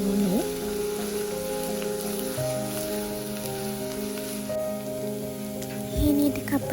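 Thinly chopped onions fry in hot oil, giving a steady close sizzle and crackle under a low constant hum, with no speech heard.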